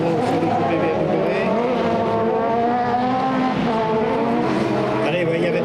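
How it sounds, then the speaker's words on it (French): A BMW coupé race car in a touring cup race, engine roaring steadily as it passes, loud and continuous throughout, with a commentator's voice running over it. "Allez, Jocelyn Duro sur le coupé BMW."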